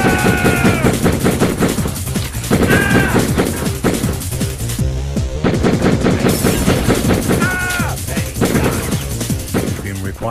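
Rapid video-game gunfire rattles in bursts while shooting through enemies, mixed with crashes and electronic game sounds, loud and continuous with short pauses.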